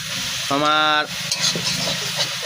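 Potato leaves fry in a generous amount of hot oil, giving a continuous sizzle and crackle with some stirring, broken briefly by a loud tonal hum near the start.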